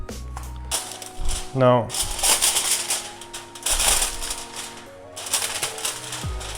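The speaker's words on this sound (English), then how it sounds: "we will take our form and we will layer it with tin foil" Tin foil crinkles and crackles as it is pressed into a cake form for a no-bake Kalter Hund, close, busy rustling bursts with a brief word spoken at the start.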